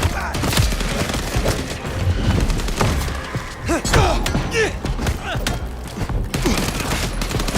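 Guns fired by mortal enemies in Vampire: The Masquerade – Bloodlines 2 crack in rapid, splintering bursts close by, mixed with thuds and chaotic combat noise throughout.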